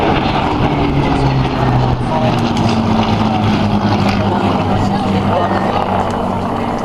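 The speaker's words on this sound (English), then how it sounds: "We have the Spitfire, the Mark V." A Spitfire Mark V propeller aircraft drones loudly past at an air display, a steady low roar shifting slightly in pitch as it passes, with some voice faintly underneath.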